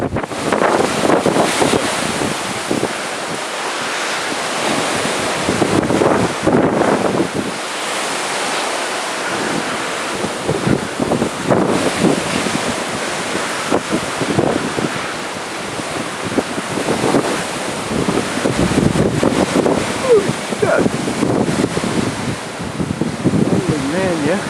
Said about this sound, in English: Huge gusts, massive, strongest I've seen in years.